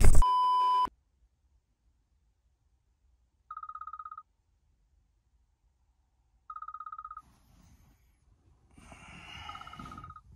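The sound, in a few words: alarm clock beeping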